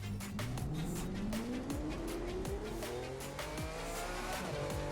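A 2007 Lamborghini Reventón on a race track in The Crew 2, its engine revving steadily upward through the gears with a rising whine and squealing tires, loud and continuous with no talk.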